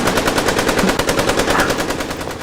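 Rapid automatic gunfire rattles in a loud, continuous burst of evenly spaced shots from a war comedy sketch, close and dominant with no talk over it.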